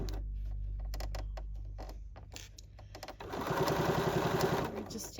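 A sewing machine stitches through thick felt while a tote bag is sewn. Scattered soft clicks and handling come first, then the needle settles into a close, fast, continuous whirring run.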